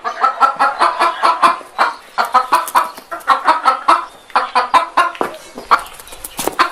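Chickens cluck and call in quick repeated bursts, close and loud, at dawn in a cartoon farmyard, with brief pauses between volleys and no talk.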